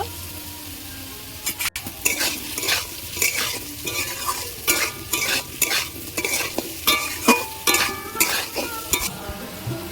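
Potatoes frying in hot oil with cumin and green chilies in a pan, stirred briskly with a spatula, giving a continuous sizzle broken by repeated sharp scraping strokes, close and fairly loud, with no talk.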